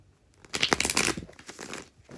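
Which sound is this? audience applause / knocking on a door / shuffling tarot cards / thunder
shuffling tarot cards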